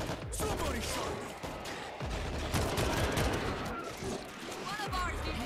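Bursts of gunfire in the zombie shooter World War Z during a New York mission, rapid shots mixed with chaotic game noise and a player talking over it.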